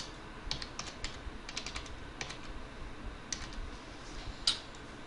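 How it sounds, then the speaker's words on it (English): Rapid keystrokes clatter on a computer keyboard in irregular bursts, close and fairly quiet, over a low steady room hum with a sharper click near the end. "typing in one of my lists here."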